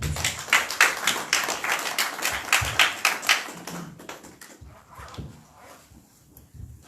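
A congregation at a church service claps loudly and rhythmically in praise of the Lord, dense and close at first, then thinning into scattered claps over a few seconds.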